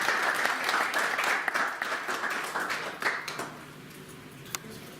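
Congregation in a church service applauding, a dense steady wash of many hands clapping that thins and fades toward the end, with a few sharper individual claps standing out.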